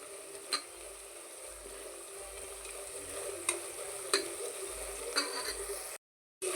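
Spices for chicken biryani sizzle in a pan while being stirred, a soft steady frying hiss with faint scrapes and clicks of the spoon, quiet and close, ending with a brief cut to silence.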